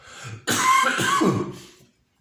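A single harsh cough from someone with a cold and runny nose bursts out close to the microphone, followed by a rough, wet trailing breath, then quiet.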